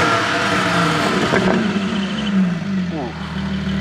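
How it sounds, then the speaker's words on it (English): A Porsche GT4 engine with a Klein aftermarket exhaust revs hard and loud, the exhaust roaring and rising in pitch, with a brief shout over the noise. "we're doing a startup on a Porsche GT4 with a Klein exhaust."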